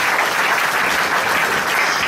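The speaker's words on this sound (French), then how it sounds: "Applaudissons pour le Seigneur Jésus." A church congregation applauds together at a worship service, a dense, steady wash of clapping held at an even, loud level throughout with no voices standing out.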